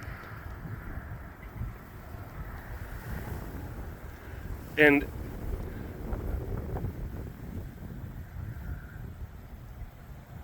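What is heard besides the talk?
wind blowing into microphone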